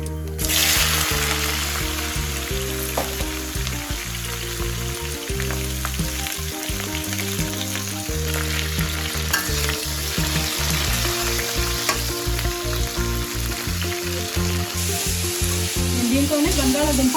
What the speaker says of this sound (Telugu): దీంట్లోనే బంగాళాదుంప ఫ్రై చేస్తున్నాను